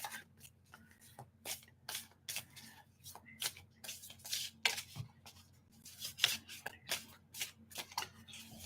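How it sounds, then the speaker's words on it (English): Tarot cards being shuffled in repeated quick riffling bursts, close by and fairly quiet, with brief pauses between shuffles and a low steady hum underneath. "See what happens when you shuffle for a Leo?"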